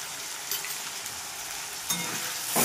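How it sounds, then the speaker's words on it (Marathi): Potato pieces fry in hot oil in a kadhai for sabudana khichdi, a close, steady sizzle with a few brief stirring bursts and no talking. "बघू शकता बटाटा व्यवस्थित फ्राय झालेला आहे आणि शिजलेला पण आहे"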